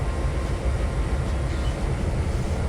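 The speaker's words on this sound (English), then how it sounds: "this locomotive here is picking up cars to start the McGuire local" A locomotive picks up rail cars in the Trainz 2019 simulator, producing a steady, dense low rumble and rolling rail noise that holds at an even level throughout, with no talking.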